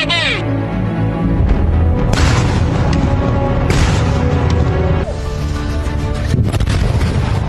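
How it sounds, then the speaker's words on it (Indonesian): Expired military ammunition is being destroyed by detonation at Cibalong, Garut, West Java, in a deadly blast: several loud booms burst over a constant rumbling background, with harsh caw-like cries at the start. "Ledakan terjadi saat pemusnahan amunisi kadaluarsa"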